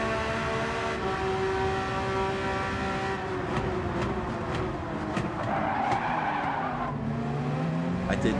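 Tires squeal and skid under late braking on a racing car in the Gran Turismo 7 video game, a sustained screech over steady engine drone with shifting pitch, loud and continuous for several seconds.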